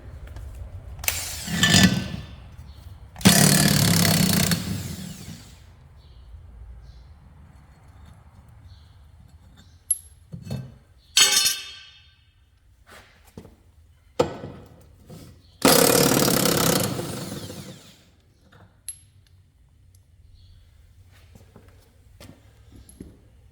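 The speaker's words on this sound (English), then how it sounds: "I'm using a 1/2-inch drive Makita cordless impact." A half-inch drive Makita cordless impact driver is used to remove the blades from a John Deere LA145 riding mower. It fires in several loud, close hammering bursts, two long and others short, separated by quieter pauses.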